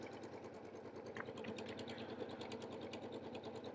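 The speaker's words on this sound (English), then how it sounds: "you're watching me sew grid lines" A sewing machine stitches grid lines on a vinyl project bag, a steady fast mechanical chatter close by, running continuously with faint clicks over it and no talking.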